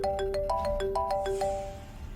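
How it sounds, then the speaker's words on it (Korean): A phone ringtone chimes in a quick repeating melodic pattern of bright, clean tones, loud and close, with the final notes fading into a short reverberant tail. "전화가 한 통 오더라고요"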